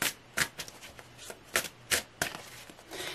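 A deck of tarot cards is shuffled close up in quick, crisp bursts of riffling, several separate flurries with short pauses between them and no talking.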